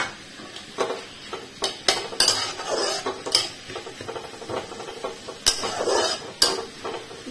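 Vegetables with chopped tomato being mixed in a pan for veg manchow soup, giving irregular clinks and scrapes of a utensil against metal, moderately close with no talk.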